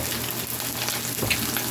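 Coffee-rubbed T-bone steak sizzles steadily in a hot oiled pan, a continuous close crackling fry with no voices over it.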